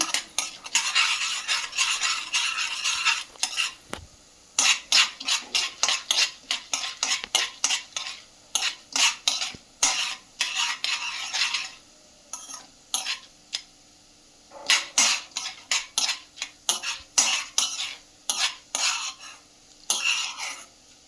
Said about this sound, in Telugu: మినపప్పు తీసి పెట్టుకున్నాం కదా, అవి వేసేసుకోవాలి. మీడియం ఫ్లేమ్లో వేయించుకుంటే చాలా బాగా వస్తుందండి.